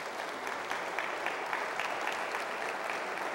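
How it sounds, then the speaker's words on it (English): Sustained audience applause at a university state-of-the-university address, broad and even, filling a large hall at a moderate level throughout. "give it a round of applause"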